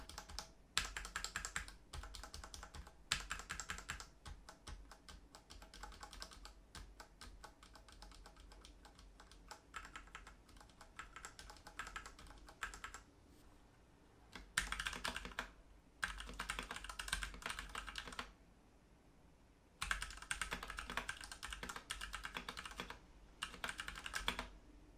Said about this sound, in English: helps dampen the sound that your keyboard makes